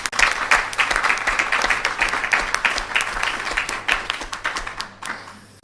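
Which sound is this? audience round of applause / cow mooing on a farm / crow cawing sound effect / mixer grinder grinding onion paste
audience round of applause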